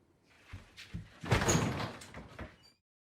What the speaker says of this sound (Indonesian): Sambil membanting pintu, Sonoda lari meninggalkan Junchan.